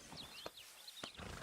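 Horse hooves clip-clop in Red Dead Redemption 2, a few distinct, close, soft hoofbeats over a faint outdoor background with chirping birds.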